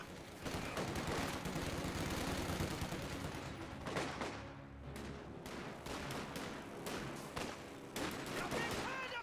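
Machine gun fire in the strategy video game Company of Heroes 2, with an MG42 firing from a garrison, rattles in dense, sustained bursts mixed with other battle gunfire and explosions.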